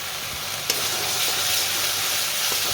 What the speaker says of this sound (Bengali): এখানে মশলাটা ভাজা ভাজি চলছে, কাঁচা লঙ্কা, রসুন, পেঁয়াজ আর তোমার আদা,